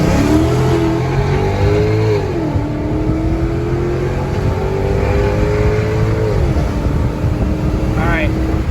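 A Mercedes CLS55 AMG with an upgraded heat exchanger and pump pulls hard through the gears, its engine note climbing, dropping at each shift and climbing again, loud and close from inside the car, with a brief chirp near the end.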